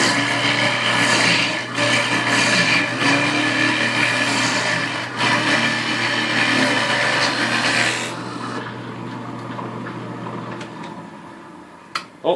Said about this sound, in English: let's drill hard with it and see what it does